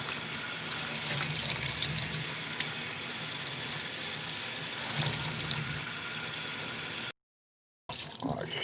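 Tap water runs steadily into a sink while soap is rinsed out of an item on a farm at night, a continuous close hissing splash with brief surges, cut by a short silent gap near the end.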